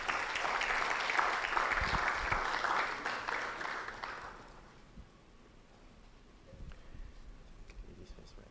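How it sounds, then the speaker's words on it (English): Applause from a conference audience fills a hall, a broad steady wash of clapping for about four seconds that fades out, followed by quiet room noise and faint movement. "Please, a round of applause for them."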